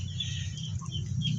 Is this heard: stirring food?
no